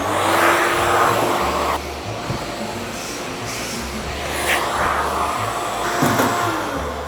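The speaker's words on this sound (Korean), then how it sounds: "바깥에서 묻어온 먼지를 털어주는 청소기인데요." A vacuum cleaner at a brewery's hygiene entrance blows and sucks dust off clothing with a loud, steady whooshing drone, its pitch shifting as the nozzle moves, with no talk over it.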